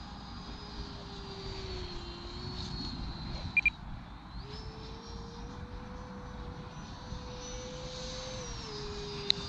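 An E-Flite Viper 70mm EDF RC jet flying in wind, its steady ducted-fan whine rising and falling in pitch as it banks and turns at a distance, with constant low rumble of wind and ambient noise beneath.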